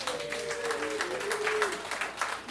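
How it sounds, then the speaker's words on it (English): Scattered clapping from a comedy show crowd, a fairly close and moderately loud patter of hands lasting the whole moment, while a voice or tonal sound drifts underneath early on. "Clap it up if you know where the Jungles are."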